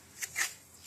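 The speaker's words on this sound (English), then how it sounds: "I'm going to take this masking tape that can peel off the garment easily" Masking tape pulled off the roll while replacing a spray top gasket: three short, quiet, crackly rips, the middle one longest, in an otherwise quiet room.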